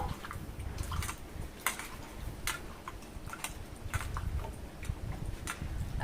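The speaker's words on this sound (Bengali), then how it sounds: "কচুটাকে আরেকবার আমি ধুয়ে নেব।" Taro root is washed in water, with irregular small splashes and drips patting at close range, quiet and uneven with no talk.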